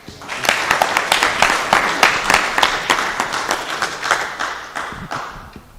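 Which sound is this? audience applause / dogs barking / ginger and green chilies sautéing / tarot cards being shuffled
audience applause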